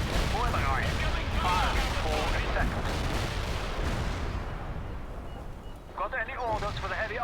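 A heavy artillery barrage pounds away in World in Conflict, with steady booming shellfire and rumble beneath overlapping radio-style voices that fade briefly before talk returns.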